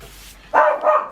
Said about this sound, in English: there he goes, because the dog has lost his mind